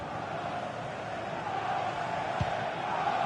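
A football stadium crowd roars in a steady, dense wash of noise during a match, with one brief thud standing out near the end.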